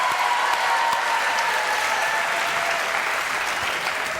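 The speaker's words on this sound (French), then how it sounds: "Applaudissements, mesdames, messieurs." Studio audience applause for a team of gymnasts on a French television show, a continuous, even roar of clapping from a crowd that holds steady and fades only slightly toward the end.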